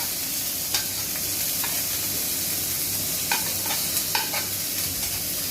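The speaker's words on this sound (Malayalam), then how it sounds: "ഓയിൽ ചൂടായപ്പോൾ കുറച്ച് കറിവേപ്പിലിട്ട് ഇനി കുറച്ച് ഒനിയൻ സവോള ഇട്ട്" Curry leaves and sliced onion frying in hot oil, a dense, continuous sizzle close by with occasional light clinks and stirring scrapes, no voices over it.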